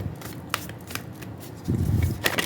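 Tarot cards shuffled in a continuous soft, papery rustle with a few sharper flicks, close by against a low background hum, with no voices.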